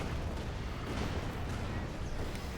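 Rocket barrage from Land Mattress launchers in the strategy game Company of Heroes 2, a dense continuous rumble of artillery-like fire and bursts, steady and loud throughout with a voice faintly in the mix.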